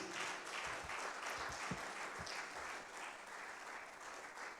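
An audience at a colloquium applauds someone speaker, the Director General of the Lagos State Safety Commission, with a steady wash of many hands clapping at moderate volume, fairly distant and sustained with no talk over it.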